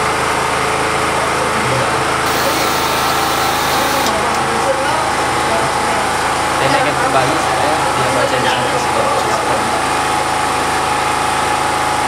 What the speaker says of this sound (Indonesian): Nah, terkadang dari pipa ini suara gensetnya.